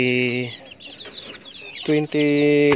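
Rhode Island cross-breed chickens cluck nearby, with loud tonal calls at the start and again toward the end and quieter scratchy farmyard noise between.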